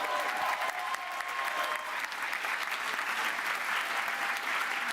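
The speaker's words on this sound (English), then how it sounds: "give her another round of applause" A graduation ceremony crowd at the University of West London gives sustained applause for a British Sign Language interpreter, a dense, steady wash of clapping that carries on without a break and sits slightly distant in a large hall.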